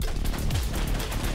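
Rapid video game gunfire, a dense continuous burst of loud overlapping shots with heavy low booms, close and filling the whole moment with no talk over it.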